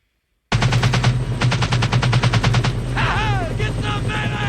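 Sustained automatic machine gun fire from the 1987 war film Full Metal Jacket, a rapid, loud burst of evenly spaced shots over a deep rotor-like drone, giving way to rising and falling whistling tones.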